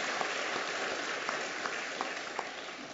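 A church congregation applauds during a Sunday morning service, steady dense clapping with a few sharper claps standing out, moderately loud and continuous.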